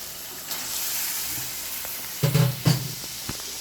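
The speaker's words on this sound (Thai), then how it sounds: "น้องก็สิพัดกบใส่เครื่องแกงก่อนนะจ๊ะเนาะ" Steady sizzling of frog stir-fried with curry paste in a hot pan, with two clattering bursts of stirring near the end.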